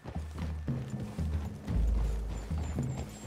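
Horse hooves clip-clop steadily in Red Dead Redemption 2, the rhythmic steps close and fairly loud, mixed with a low mechanical rumble and an occasional faint whinny.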